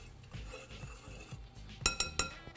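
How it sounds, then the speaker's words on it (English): A whisk stirs dry biscuit ingredients with sugar in a bowl, giving soft scraping rustles and then a quick run of bright metallic clinks against the bowl, close and fairly quiet, with no talking. "Just give that a little whisk."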